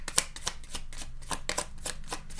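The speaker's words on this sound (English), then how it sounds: "because we're going to shuffle this out, actually" Tarot cards being shuffled by hand, a rapid series of crisp riffling bursts in an uneven rhythm, close and fairly quiet, with no talking.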